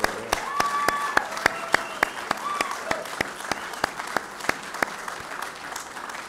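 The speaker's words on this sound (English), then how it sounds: "Let's give a round of applause for him." Audience applause for the Superintendent of the U.S. Military Academy at West Point at a Veterans Day closing bell ceremony: a modest crowd clapping steadily, with a few sharp claps standing out and brief voices underneath.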